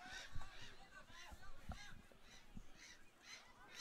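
Arctic terns flying and calling overhead at an outdoor youth football tournament in Iceland, harsh repeated squawking cries in irregular bursts under a man's speech.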